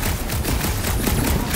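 Rapid gunfire aimed at a grimy reactor in Marvel's Guardians of the Galaxy, a loud, continuous burst of shots with no gaps, dense and close.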